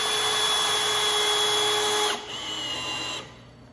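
A power drill whines steadily as it drives screws into a wooden bench during blind installation, the pitch dropping as it slows and stops after about three seconds, loud and close.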